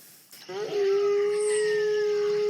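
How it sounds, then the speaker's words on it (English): Wolves howling at night, one close, loud, sustained howl rising and then holding steady, with fainter overlapping voices above it and a brief thump just before it starts. "I'm going to bed now with the sound of wolves as my lullaby."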